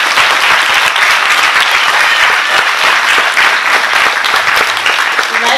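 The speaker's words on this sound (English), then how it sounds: "Please help me by giving a round of applause to Alexia Serrano." An audience at a school assembly applauds loudly and steadily, dense clapping that carries on without a break for several seconds.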